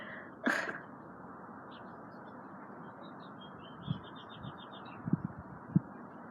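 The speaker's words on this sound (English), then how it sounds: "the birds are literally chirping" A few short bird chirps ring out over a steady outdoor hum, with a brief louder rustle near the start and sparse soft knocks later.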